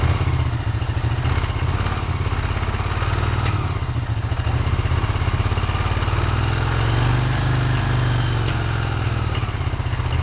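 A Honda CX500 motorcycle engine, abandoned for 42 years with only 39 miles, runs steadily and loudly up close with an uneven, slightly missing beat throughout.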